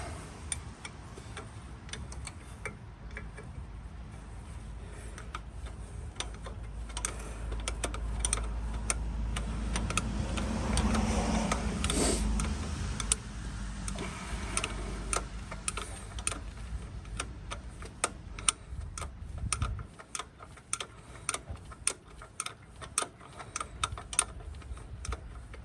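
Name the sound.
tightening bolts with a small clicking torque wrench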